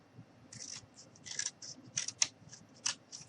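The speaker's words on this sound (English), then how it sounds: "So I'm going to go ahead and cut another piece." Scissors snip through a piece of cardboard while making miniature cardboard pots and pans, a series of short, crisp cuts in an irregular rhythm, close and moderately quiet with no talking.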